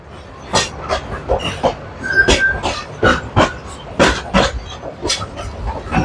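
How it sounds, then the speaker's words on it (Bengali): A passenger train rolling along the track from Bogura to Dhaka, with a steady run of rhythmic clacks as the wheels pass over the rail joints, heard from on board an AC cabin. "যে দেখুন ট্রেনের মাথা কত দূরে"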